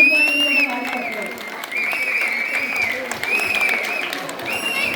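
An audience applauds performers at a Ugadi 2024 celebration: steady, dense clapping that runs the whole stretch, with sustained tonal sounds and voices riding over it.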